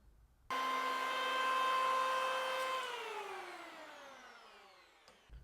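Skil 6.5A 3-1/4 inch electric hand planer (PL2012) cutting a chamfer along a wood edge: a steady high motor whine that drops in pitch as the blade bites, then winds down before a faint click.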